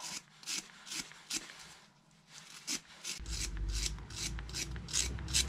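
Corroded, pitted brake retaining pin on a BMW R1200GS front brake being cleaned by hand, a close series of rhythmic scratchy rubbing strokes, quiet at first and then denser over a low background rumble.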